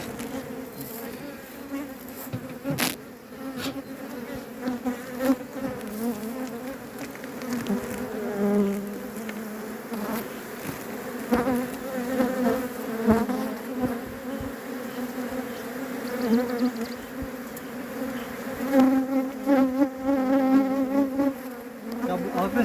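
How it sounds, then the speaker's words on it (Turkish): Aggressive honeybees swarm around a beehive as it is opened, and their dense, loud buzzing surrounds the listener continuously with individual bees zipping close past. "E, şimdi birlikte kovanımızı bir açalım. Zaten görüyorsunuz daha açmadan e, tepemize çullandılar."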